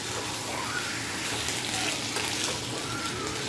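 Dried chilies frying in oil in a pan, a steady dense sizzle and crackle that holds evenly throughout, close and continuous with no talking.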